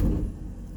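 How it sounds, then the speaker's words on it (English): A motorhome's onboard generator starts up and settles into a low, steady engine rumble, close by and fairly loud, with no voices. "And let's start the generator again."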